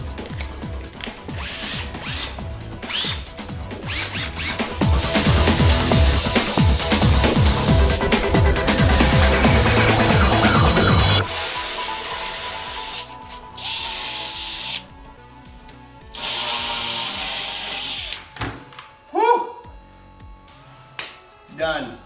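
A power drill bores holes with a 1/2 or 7/16 inch bit for a garage home climbing wall, whirring steadily and loudly, changing pitch as the bit bites, then stopping in short bursts near the end.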